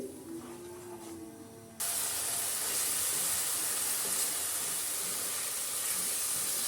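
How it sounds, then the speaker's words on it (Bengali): Ground spices sauté in oil for a chicken curry, and after a quieter opening a loud, dense hiss suddenly sets in and holds steadily to the end. "এখন খুব ভালো করে মশলাগুলো কষিয়ে নিব বা ভুনে নিব"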